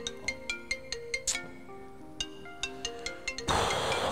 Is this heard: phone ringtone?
yes